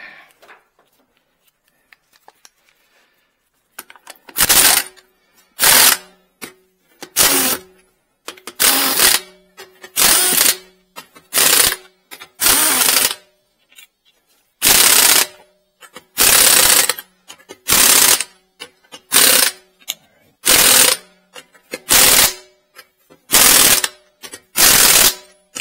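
An impact wrench fires repeated loud rattling bursts while tightening lug nuts on a 2021 Dodge Durango during a tire rotation, about a dozen short bursts separated by brief pauses after a quiet start.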